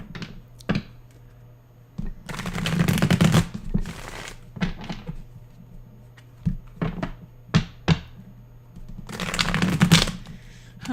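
Tarot cards being shuffled by hand in bursts of riffling and flicking, with soft taps and pauses between, close and fairly quiet against a low steady hum.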